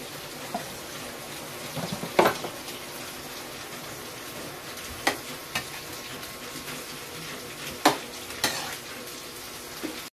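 Alugbati (Malabar spinach) is stir-fried with shrimp in a hot pan, giving a steady sizzle under scattered sharp scrapes and clacks of the stirring utensil, close and fairly quiet, with no one speaking.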